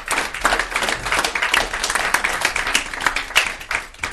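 A church congregation clapping hands during a worship service, steady irregular claps from many people at moderate volume, with faint voices underneath.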